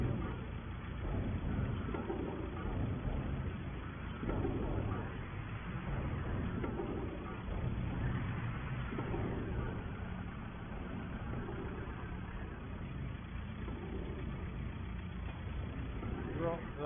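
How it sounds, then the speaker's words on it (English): A farm tractor engine idles steadily in the background for the whole stretch, a low continuous rumble beneath ongoing talk. "We will leave that tractor running, it will be fine."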